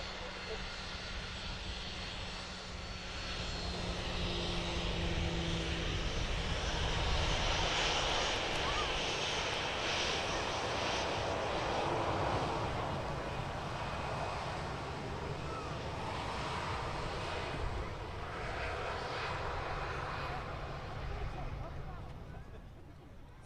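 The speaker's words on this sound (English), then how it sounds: "taxiing out now, just in front of us, the Boeing 737-800, operated by Ryanair" Ryanair Boeing 737-800 taxiing at Manchester Airport, a sustained broad jet-engine roar that swells and eases slightly across the span, heard at a moderate distance with people talking faintly nearby.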